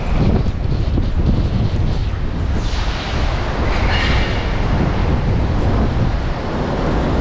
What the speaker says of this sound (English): Oh, and it is windy. This is quite the wind tunnel here.